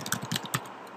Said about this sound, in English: now if I go ahead and start typing in